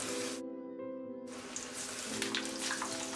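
Waterlily stalk pieces dipped in gram-flour batter and fried in hot oil over medium heat: a loud, steady hiss drops away briefly, then returns with crackling and spatters.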